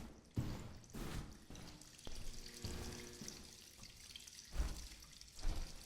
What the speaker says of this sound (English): I hear the sound of running water.